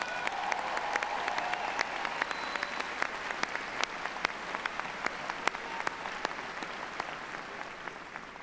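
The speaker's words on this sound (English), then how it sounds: "Let's give her another round of applause" A commencement ceremony audience gives sustained applause, a dense, even wash of many hands clapping at a distance, with a few sharper claps standing out.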